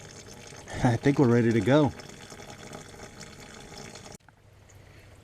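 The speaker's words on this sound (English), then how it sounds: "Alright, so we're draining the coolant now." Coolant drains from an F-Body LT1 engine while the car is worked on from below, producing a low, steady trickle and splash behind a brief spoken remark that cuts off near the end.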